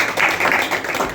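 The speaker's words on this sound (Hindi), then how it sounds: "एक अच्छा ताली बजाए" A church congregation claps for the Lord in a brief, dense burst of applause, many hands together, loud and steady, with no voice on top.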